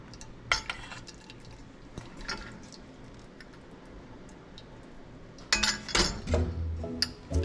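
A hand-cranked food mill grinding cling-seed plums, with squishy pulp and clinking metal from the crank and grate; quiet scraping gives way to a louder burst of clattering near the end, with no talk.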